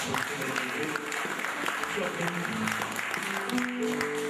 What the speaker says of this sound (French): Applaudissons les amis